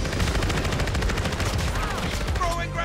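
Rapid gunfire bursts crackle nonstop in a Modern Warfare 3 six-versus-six War Mode match, dense and loud throughout, with a voice speaking over the shooting near the end.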